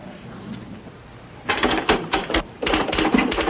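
Typewriter keys clatter in quick, uneven bursts of sharp strikes after a quiet start, close and fairly loud, in a household scene from the sitcom Leave It To Beaver.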